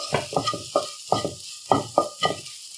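Food sautéing in a pan on a stove, heard as rhythmic stirring strokes over a light sizzle, arriving in quick bursts of two or three, close and clear, with no voices.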